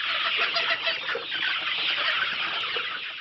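Many young chickens at a poultry farm in Bhutan cluck and chirp together, a dense, continuous chorus close by with no voices.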